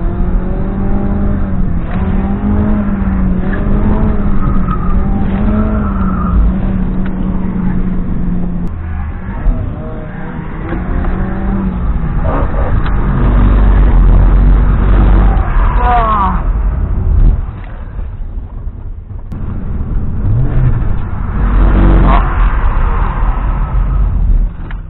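A drift car on a track at a drift day warm-up session, its engine revving loudly in rising and falling surges with moments of tire noise, while people talk throughout.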